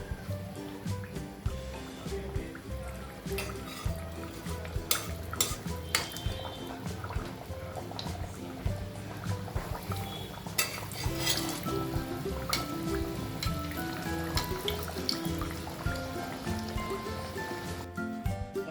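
Mango poli frying in a pan, a steady bubbling, crackling wash of hot oil mixed with occasional clinks of a utensil, continuous and close throughout, with no talk.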